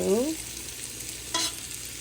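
An egg fries in a little oil in an iron pan with a steady close sizzle, briefly interrupted by short tonal squeaks near the start and again partway through, with no talking.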